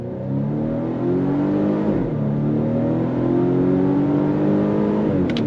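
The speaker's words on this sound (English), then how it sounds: "You're just hearing the 2-liter inline-4 turbocharged engine." A 2024 Volvo V60 Cross Country wagon with a 2-liter turbocharged inline-4 pulls away under throttle from a stop, the engine note climbing steadily through two gear changes, heard close from inside the cabin with no talk.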